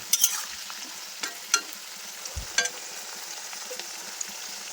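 Carrots and other vegetables frying in oil on low heat, a soft continuous sizzle with a few stirring scrapes and knocks of a spatula against the pan, close and fairly quiet.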